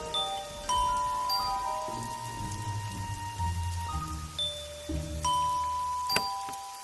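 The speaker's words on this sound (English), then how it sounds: "She needs to ring the melody on bells." Several bell tones ring out a melody one after another in a slow sequence, their pitches lingering and overlapping above a low rumbling background of storm rain.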